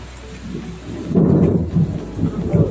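Heavy rain pours down steadily while deep rumbles of thunder roll through it, loud and close, with no voices.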